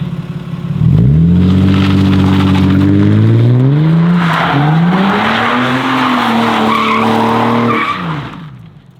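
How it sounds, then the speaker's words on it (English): A car spinning donuts, its tires squealing in a long, loud, wavering howl over a revving engine, fading out near the end. "All right, Charles's first donuts."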